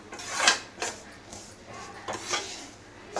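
Rava (semolina) being dry-roasted in a pan for rava laddu, with a spoon scraping and clinking against the metal in a few scattered strokes, fairly soft and close, no talking.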